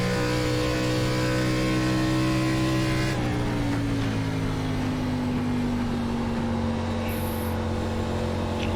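ARCA stock car engine in the iRacing sim at Twin Ring Motegi, a loud steady high drone holding near-constant revs that dips once as the car brakes and then carries on at a slightly lower pitch, no talk.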